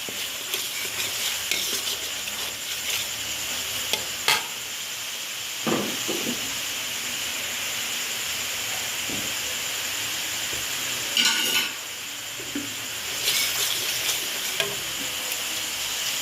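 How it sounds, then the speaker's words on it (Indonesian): Spice paste for Indonesian opor ayam stir-fried in a pan, a steady close sizzle and hiss with occasional scraping stirs and clacks of a utensil, no voices. "Jadi kalau goreng seperti ini bumbu kemudian terlalu kering atau melekat seperti ini, bisa kita beri air sedikit-sedikit."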